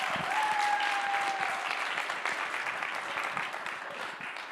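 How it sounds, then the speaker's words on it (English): An audience at a tech demo event breaks into sustained applause, a dense wash of clapping that stays loud and then eases slightly, with a brief tonal whistle near the start. "I'd ask you to give him a round of applause"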